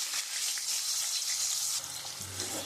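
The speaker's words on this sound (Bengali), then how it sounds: "আমি ওই মাছ ভাজার তেলের মধ্যেই আমি আলুটা একটু লাল লাল করে ভেজে নেব।" Potatoes frying in leftover fish-frying oil, a steady close hiss and sizzle of hot oil that runs throughout with faint clinks near the end.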